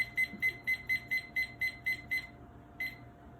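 A kitchen timer beeps in a steady run of nine evenly spaced high electronic pulses, pauses, then sounds once more, close and clear over a quiet room.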